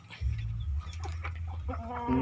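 A young hen tries to crow: a low, rough clucking call rises into a short, strained harmonic crow at the end, close by and alone.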